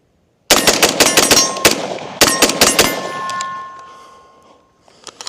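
Brownells BRN-180 Gen 2 rifle firing outdoors: two quick strings of loud, sharp shots, each burst of several rapid reports followed by a ringing decay, then faint small clanks near the end.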